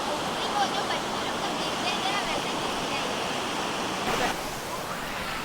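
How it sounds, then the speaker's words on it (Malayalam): Kanayi Kanam waterfall in Kerala's cool hills pours with a steady, close, broadband roar of falling water that stays constant throughout, easing only slightly near the end. "നല്ല കിടിലം വെള്ളച്ചാട്ടം."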